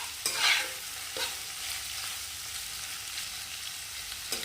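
Paneer pieces and onions fry in a pan for methi paneer, a soft continuous sizzle broken by a few scraping stirs near the start, quiet and close with no voices.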